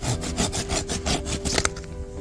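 Rhythmic back-and-forth strokes of a hand saw cut through western arborvitae branches during garden pruning. The rasping, woody strokes come close and steady, ending in a brief snap, with no talk.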